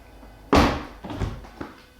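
Rear passenger door of a Tesla opening, with a sharp loud clunk of the latch and a brief whir after the window drops slightly, followed by fainter mechanical clicks.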